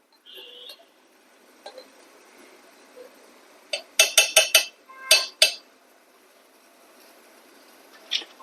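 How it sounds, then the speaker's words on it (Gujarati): A beater stirring melted butter, cocoa and sugar in a pot clinks against the metal in a few quick bursts of bright taps, with quiet pauses in between and no talk. "આપણે આનાથી હલાવતા રહીશું બીટરથી"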